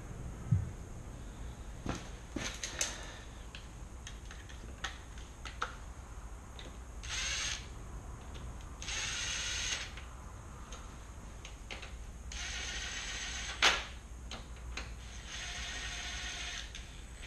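A socket ratchet winds in wheel bolts on a motorcycle wheel, with quiet bursts of rapid clicking pawl ticks separated by pauses and faint handling noises.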